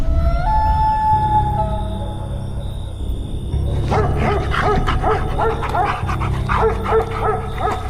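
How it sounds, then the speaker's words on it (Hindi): A dog barks, yips and whimpers as a sound effect in a horror story, loud and close over a low, droning, eerie background with tonal notes. "घर में एक कुत्ता था जो मुझे देखकर भौंकने लग गया"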